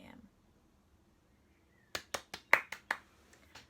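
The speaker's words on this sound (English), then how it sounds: "Applause to me, applause to me." Several quick hand claps in a short burst, sharp and close, after a quiet stretch with a faint voice at the start.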